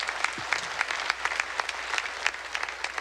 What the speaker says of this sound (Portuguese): Salve de palmas, pastor Nassif, pela piada.